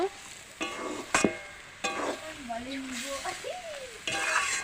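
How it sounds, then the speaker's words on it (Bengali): Taro leaves cooking with chickpeas, coconut and added sugar get stirred in a pan, bursts of sizzle and scraping come and go while a voice speaks over the quieter moments. "এবার দিয়ে দিলাম চিনি দিয়ে আরও 2-1 মিনিট নাড়াচাড়া করে নামিয়ে নেব"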